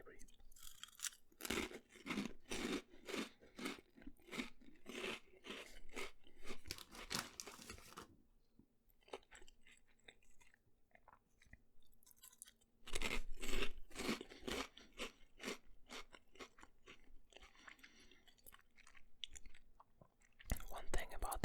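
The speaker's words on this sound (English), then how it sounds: "One thing about these crisps is that you swallow a lot of air when you eat them" Crunchy crisps are chewed close to the microphone in bursts of loud crackling crunches, separated by a quiet pause in the middle, with soft whispered talk at times.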